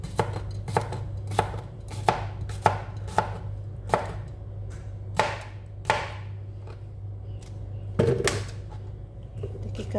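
Knife chopping a cucumber on a cutting board for detox juice, a run of sharp, close, regular strokes with a few pauses and a steady low hum underneath.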